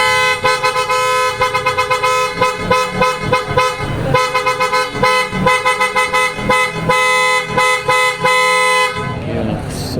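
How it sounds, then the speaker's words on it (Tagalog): Aftermarket PIAA horns fitted to a Toyota Vios blare in a rapid series of short, loud, close toots and a few longer blasts, stopping near the end. "sobrang lakas ng ating PIA auto style horn"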